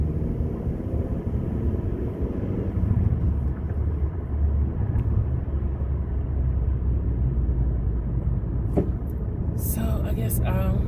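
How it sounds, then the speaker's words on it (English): Road traffic rumbles past outside a car, a constant low drone of engines and tires heard from the cabin, with a few brief clicks and rattles near the end. "it's a lot of traffic."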